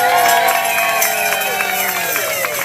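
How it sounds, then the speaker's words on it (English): A crowd at a children's birthday party claps and cheers for the kids, with a dense burst of applause mixed with excited voices and music throughout. "join me in giving those kids a great big round of applause"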